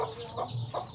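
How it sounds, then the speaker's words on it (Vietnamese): A mother hen clucks in short repeated bursts while being grabbed during a rural house demolition, with the fowl sounding close and fairly loud over a steady background. "Anh bắt con gà mẹ á anh."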